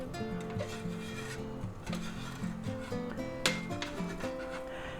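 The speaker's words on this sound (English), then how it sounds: "Now I'm going to go ahead and use a spatula and see if we can get them up there" Spatula scraping and sliding a grilled cheese sandwich with chopped salami around a pan, repeated rubbing scrapes over a continuous background hum, close and moderate in level.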